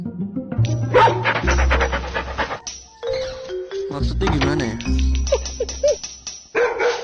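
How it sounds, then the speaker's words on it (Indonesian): A dog barks in the mobile stealth game Robbery Bob, sharp yaps repeating over game music and sound effects while a person talks throughout. "Oh, kita nggak digigit ya, cuman dia ngegonggong."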